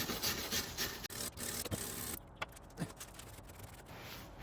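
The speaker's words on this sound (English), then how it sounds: "kind of just remove all that material. Wire brush it" Scratchy rasping strokes of a wire brush scrubbing crusty material off a Hoveround wheelchair electromagnetic brake, irregular close-up scraping with brief pauses and a few clicks, quiet and without speech.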